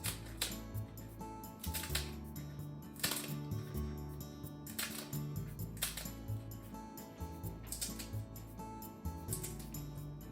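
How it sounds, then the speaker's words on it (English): A knife cuts kombu seaweed into strips, mixed with chili pepper, for quick asazuke pickles. Crisp clustered clicks and cuts come in several bursts over a quiet background, close and fairly loud, with no talking. "Chili pepper and kombu seaweed as you cut it into strips."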